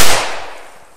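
An I LOVE SKULL CLE0205I whistling firecracker goes off in one sharp, loud bang right at the start, followed by a fading hiss and echo that dies away within about a second.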